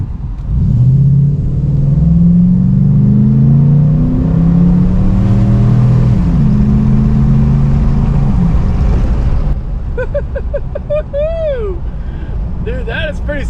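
Jeep Commander Overland fitted with an AFE cold air intake, its engine revving up in a loud, rising drone for several seconds before easing off, followed by a whirring wind-down with a few faint voices.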